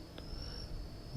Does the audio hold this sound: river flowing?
no